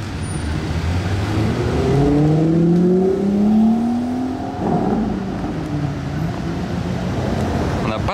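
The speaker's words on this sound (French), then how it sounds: "Le retour de l'Aston Martin Valiant d'Alonso" An Aston Martin Valiant, Fernando Alonso's V12 car, sweeps past with a rising then falling engine note that swells loudly mid-pass and fades into road noise, with a voice briefly audible.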